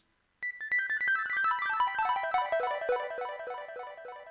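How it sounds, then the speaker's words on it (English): TO5 analog synthesizer playing a bright, buzzy sequence of rapid notes that step steadily downward in pitch, starting abruptly after a brief silence and sustaining with rich harmonics, clear and alone. "I had to add my analog synth here, my TO5."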